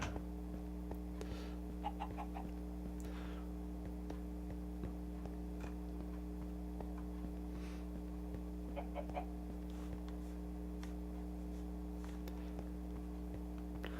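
Chickens in Minecraft cluck in short, scattered bursts over a steady low hum and faint ticking, moderately distant and without talk.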